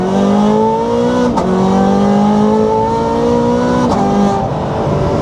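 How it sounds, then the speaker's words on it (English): Sports car, a Lamborghini Gallardo Superleggera or Ferrari 430 Scuderia, revs hard through an acceleration run, its engine note rising and then dropping at two quick gear changes. Loud and close throughout, with no talking. "Another acceleration run for you all,"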